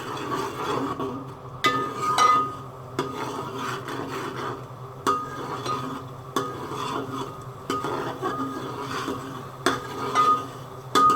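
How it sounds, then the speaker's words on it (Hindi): Masala for chicken kofta curry is fried in oil while a spoon scrapes and stirs the pan in a steady repeating rhythm over a low sizzle, close and clear with no talking. "अब इस मसाले को अच्छी तरह गाइस भूनना है।"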